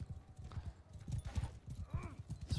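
Galloping horse hooves in the medieval battle game Bannerlord, a steady pounding clip-clop rhythm up close, joined briefly by a short whinny-like sweep partway through, with no talk over it.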